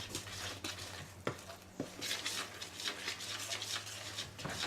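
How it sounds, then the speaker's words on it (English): A spoon stirring lumpy pancake batter in a bowl, giving soft repeated scraping and wet stirring strokes with a few sharper taps against the bowl, close and fairly quiet. "the only reason I had to stir with a spoon is because it's going to be quite lumpy at the beginning"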